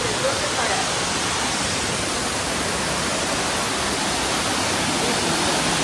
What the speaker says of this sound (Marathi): इथून एक छोटा धबधबा देखील पडतोय